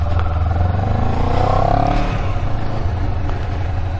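A 250cc motorcycle fitted with a quickshifter, ridden on a touring road: a close, loud engine drone with rumbling wind noise that swells as the bike accelerates through the gears, then eases off.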